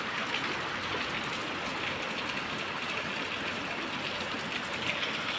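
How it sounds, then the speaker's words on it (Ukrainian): Heavy rain pouring steadily, a dense, unbroken hiss with water running off a roof and splashing throughout, loud and close, no voices. "Ну просто сильний дощ у нас тут реально ріка, ріка йде."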